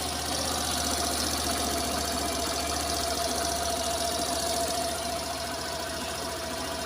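A Suzuki Burgman/Avenis 125 scooter engine idles steadily without throttle, a continuous close mechanical hum with a faint knocking pulse that holds even throughout.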